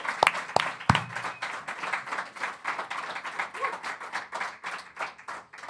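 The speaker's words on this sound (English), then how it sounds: "Let's have one big round of applause for Britannia." A few sharp claps ring out, then a crowd's applause carries on steadily, moderately loud and sustained.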